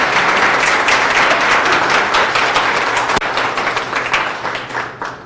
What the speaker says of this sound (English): Please give him a crowd of applause.